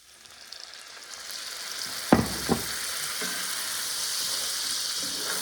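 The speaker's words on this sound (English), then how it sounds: "Now we're going to deglaze the pan with some beef broth." Beef broth poured into a hot steak pan sizzles loudly and steadily, with a couple of sharp metallic scrapes as browned bits are loosened from the bottom; no talking.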